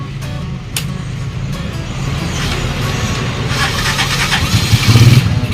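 A motorcycle engine runs steadily after its ignition coil harness is jumpered past a break, with a close, continuous low rumble that grows slightly louder toward the end.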